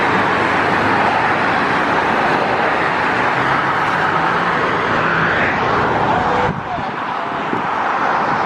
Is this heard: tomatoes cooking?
no